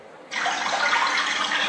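Water suddenly starts gushing and splashing during a stage magic trick at a village magic show, a steady close rushing pour that continues without voices.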